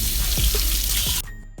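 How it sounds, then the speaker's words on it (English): Hot water runs steadily from a household faucet, a dense close hiss of flowing water that cuts off abruptly near the end. "you just need to turn on your faucet to hot water"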